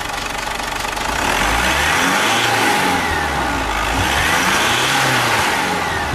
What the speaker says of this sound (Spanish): Ahora vamos a acelerarlo, por favor.